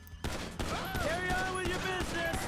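Rapid gunfire in the GTA 5 video game crackles as a dense, continuous volley under a voice, with ringing tonal game effects layered over the shots.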